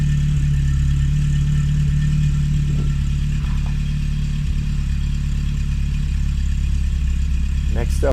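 A 1980 Porsche 924 Turbo idles steadily at the rear by its exhaust, a continuous low engine drone that holds evenly throughout with faint background sounds.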